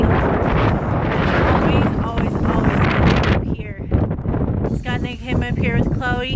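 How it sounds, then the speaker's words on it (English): Wind buffets loudly at the top of a lookout tower on a cold day, rushing and gusting against the microphone while a person talks. "And it is cold up here and it is windy."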